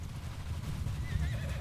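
Horse whinnying in Bannerlord, a medieval cavalry battle game, with high neighing cries rising near the end over a steady, dense low rumble of hooves and moving troops.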